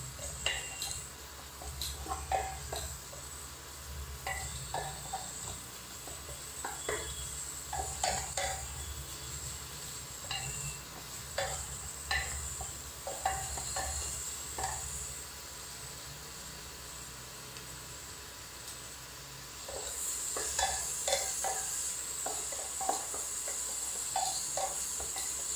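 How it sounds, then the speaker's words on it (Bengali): Onions fry in a pan while a spoon stirs them, scattered light scrapes and taps over a faint steady sizzle, fairly quiet and close with no talk. "এবার একটু ভালোভাবে নাড়াবো পেঁয়াজটাকে।"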